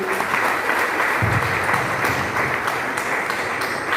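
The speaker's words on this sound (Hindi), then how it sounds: "एक बार जोरदार तालियां दिनेश जी के लिए।" Audience at a motivational success-story event clapping, a short burst of continuous, evenly dense applause heard fairly close.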